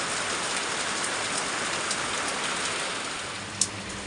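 Steady rain falling on surfaces, an even dense patter at moderate distance with one brief sharp tap near the end and no voices.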